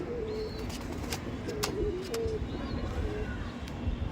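Pigeons coo repeatedly at close range, soft throaty calls rising and falling over a steady low background rumble, with occasional sharp clicks and no clear talk.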